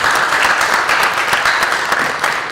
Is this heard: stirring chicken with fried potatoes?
no